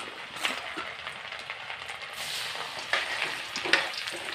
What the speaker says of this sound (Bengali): আমি আগের থেকে তেল গরম বসিয়ে দিয়েছি, তো এক এক করে আমি গাজরগুলোকে ছেড়ে দিচ্ছি।